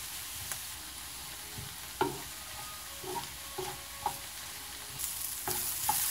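Red and green bell peppers cook in a pan for a Filipino-style burrito with a soft, low sizzle. Several distinct taps and scrapes of a spatula sound against the pan at irregular intervals.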